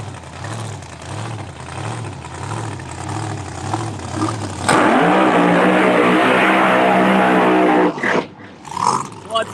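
Blown drag racing machine on the line at Empire Dragway open test, Janus blower and Janus engine, roaring loud and close from the launch on, after a stretch of lower rumble and crowd murmur.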